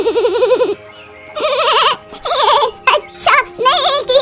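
A goat bleating after being slapped, loud wavering cries repeated four times in quick succession, close and emotional, with no talk over them.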